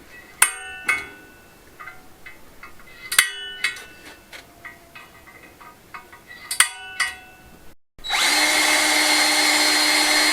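Power drill boring holes through marked, centre-punched workpieces during a courtyard makeover, with three separate close bursts of drilling and tool clinks between them, then a loud, steady high whine starting near the end.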